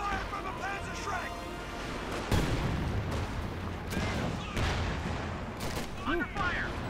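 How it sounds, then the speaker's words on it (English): In Company of Heroes 2, a Panzerschreck fires amid dense battlefield gunfire, with sustained crackling volleys and several heavier booming hits. A voice talks over the fighting throughout. "Under fire from the Panzer Shrek!"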